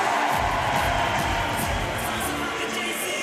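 Canadian and Brazilian supporters fill a sold-out North Paris Arena during a women's sitting volleyball bronze medal match at the Paris 2024 Paralympics, a loud, sustained crowd roar with cheering throughout.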